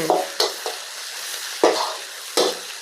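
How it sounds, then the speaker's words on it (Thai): Chili and garlic are stir-fried in a hot pan, with a sizzle running throughout and several sharp scraping strokes of the spatula, loud and close. "เราจะผัดให้อันนี้หอมก่อนเนาะ เดี๋ยวเราค่อยเอาหมูใส่นะ"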